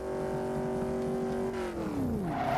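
A Bugatti engine in the Rebel Racing mobile game holds a steady high drone through a long drift. Its pitch then sags and slides downward as the car slows, loud and continuous with no talk.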